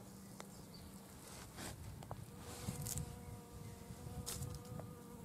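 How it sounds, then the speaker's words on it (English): A bee fly hovers over ground ivy flowers at a hedge-edged lawn, its faint buzzing drone holding steady with a few brief louder passes nearby, heard outdoors without talk. "This is a ground ivy with a bee fly on it."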